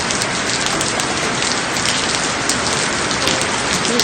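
Steady rain falls and patters densely on surfaces outdoors during a rainy-season vegetable harvest, a loud continuous hiss of drops with no breaks and no voices.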